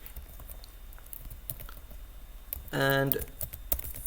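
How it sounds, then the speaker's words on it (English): Rapid clicking keystrokes on a computer keyboard while installing Flutter, a close, steady patter of taps with a speaking voice briefly cutting in partway through. "type the same as I am typing"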